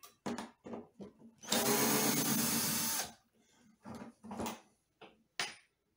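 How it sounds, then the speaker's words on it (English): A power drill or driver backs bolts out of the neck of a 1969 Framus Texan acoustic guitar, with one sustained loud whir of about a second and a half amid short bursts and handling clicks. "Take some bolts off."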